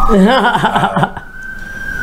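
Ambulance siren wailing loudly and close by with a rapid warbling rise and fall, then settling into a steadier tone, mixed with a voice.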